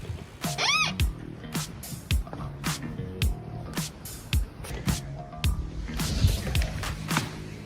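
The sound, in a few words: cat outside in thick snow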